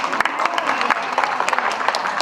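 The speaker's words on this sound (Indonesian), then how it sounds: "Tepuk tanganlah Bapak Ibu." A crowd applauds with brisk, dense clapping, fairly close and loud, sustained throughout.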